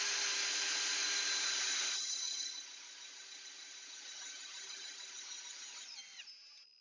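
A DW2/DW3 drill-winch motor whines at full lifting speed, a steady high-pitched hum that drops in pitch and level partway through, then runs quieter before winding down at the end.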